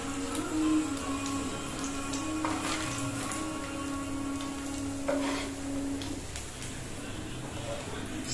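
Taro root pieces sizzle steadily in hot oil, a soft continuous crackle with occasional stirring scrapes and a low hum in the background.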